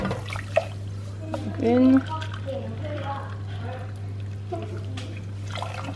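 Hot water pours from a cup into a pot for kunafa syrup, a short splashing burst close by amid kitchen noise and a steady hum, with people talking around it.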